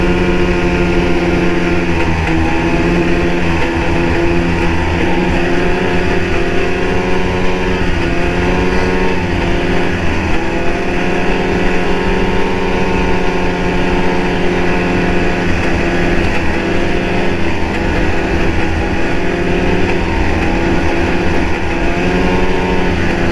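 An Arctic Cat engine with catalyst trouble after about 500 miles, stumbling whenever the throttle is eased off. It runs loud and close without pause, its tone wavering and sagging unevenly, with no voices over it.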